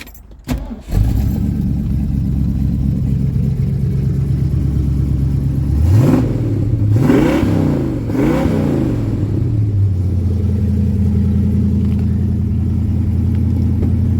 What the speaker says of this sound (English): Let me fire this sucker up so you can hear it.